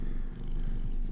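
A domestic cat purring up close, a steady low rhythmic rumble with a brief dip partway, alone with no talk.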